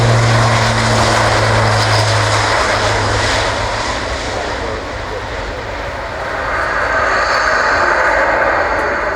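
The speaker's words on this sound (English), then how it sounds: "Rolling now, the Airbus A400M, the AIRBUS." An Airbus A400M turboprop rolls for takeoff at the Farnborough airshow in 2014, its loud, steady propeller drone building and sweeping past before easing slightly and swelling again.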